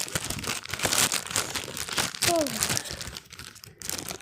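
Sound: plastic rubbish bag crinkling during unboxing

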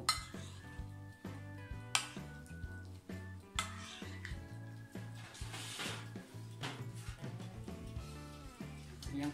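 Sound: stirring chocolate pieces into sweetened ricotta in a bowl

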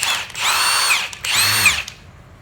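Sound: Milwaukee power drill running

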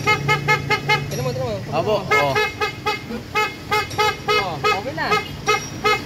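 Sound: car horn honking on a Hyundai H100 van

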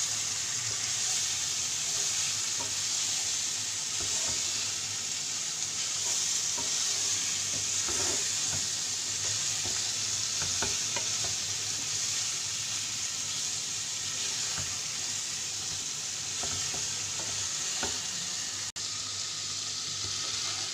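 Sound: stirring tofu frying in a pan

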